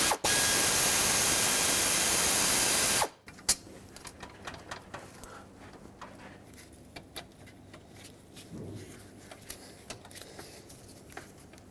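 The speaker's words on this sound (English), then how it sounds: "8mm socket, take the bolt out" A ratchet with an 8mm socket backs a bolt out on a 2008-2010 Ford F-250 during heater core crossover tube work, a loud burst of noise giving way to quick, sharp ratcheting clicks in irregular runs.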